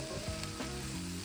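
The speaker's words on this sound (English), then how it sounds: "Those are frying up nicely." Steady sizzling and crackling of black beans frying in a hot pan, close up, with a faint stir or scrape.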